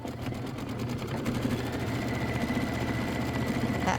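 A sewing machine runs a small quilting stitch through a Christmas quilt block, a steady, rapid mechanical whir with a fine rhythmic chatter, close and continuous, with no talking.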